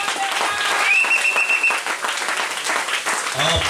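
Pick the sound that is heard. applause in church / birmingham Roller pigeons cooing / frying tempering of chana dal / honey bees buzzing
applause in church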